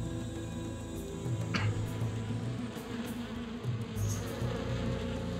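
Bees buzz constantly in the video game Shadow of Rome, a close, dense droning hum that swells and dips slightly with no speech over it.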